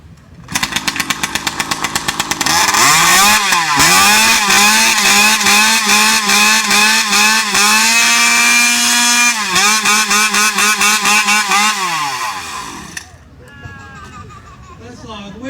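At a Paul Bunyan lumberjack show, a chainsaw sputters into life, then revs loud and sustained with rising and falling pitch for about ten seconds before cutting back to a rough idle amid crowd noise.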